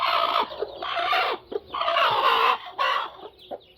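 Hen clucking steadily with her brood of chicks on a farm, the calls loud and close, repeating in bursts with short pauses.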